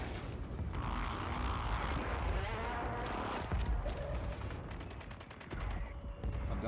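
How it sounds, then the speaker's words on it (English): Gunfire rattles through a Call of Duty Warzone match on Rebirth Island, with dense continuous bursts and booming impacts under a constant loud game mix, no talk. "somebody's shooting"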